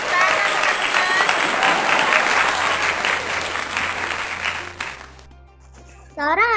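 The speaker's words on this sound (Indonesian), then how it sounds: "Kita beri tepuk tangan, teman-teman" Schoolchildren in a class applaud their classmates after a group performance, a dense clatter that fades after about five seconds, followed by a quiet gap and a brief voice.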